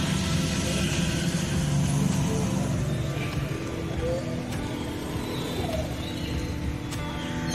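A new Honda Activa 7G scooter idles outside a showroom, its engine giving a steady, close, continuous hum at constant level throughout, mixed with faint outdoor background sounds and no clear talk.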